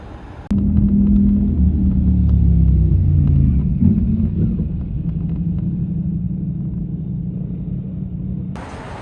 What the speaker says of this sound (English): Jeez, look at this bumpy ass ride